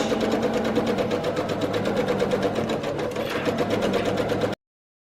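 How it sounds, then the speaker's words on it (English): Sewing machine stitching binding along the edge of a quilt, with a fast, even mechanical chatter heard close and alone for about four and a half seconds before stopping abruptly. "We're gonna sew right along that edge"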